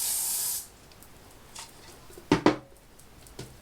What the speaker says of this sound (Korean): 이런 가벼운 가스 스프레이여야 돼요. 가스 스프레이를 뿌려서 말아놓으세요.